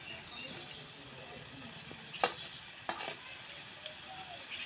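Moong dal jalebi frying in oil makes a soft, low sizzle, broken by a couple of sharp metallic clinks from a utensil against the pan.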